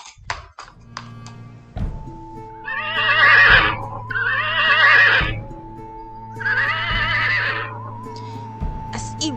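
A horse whinnies three times in loud, wavering calls, with sharp hoof knocks and taps between them and a low steady hum underneath.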